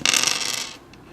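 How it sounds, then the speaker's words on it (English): Three dice tumble and clatter across a tabletop in one quick rattling burst that lasts under a second, then fades to quiet. "Take 3 dice from the dice mine. Okay. So take 3, roll them."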